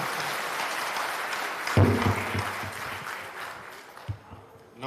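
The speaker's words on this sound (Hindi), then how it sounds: "एक बार जोरदार तालियों से उनका स्वागत करें।" An audience at a Jan Suraaj public meeting in Gopalganj applauds to welcome Prashant Kishor. A burst of clapping swells, holds briefly, then thins out. Talk runs around it.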